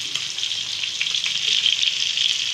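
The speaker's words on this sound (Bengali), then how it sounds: "ইলিশ মাছটা হালকা করে ভেজে নিচ্ছি" Hilsa fish shallow-frying in hot oil, a constant bright crackling sizzle close by, swelling slightly toward the end, with no talking.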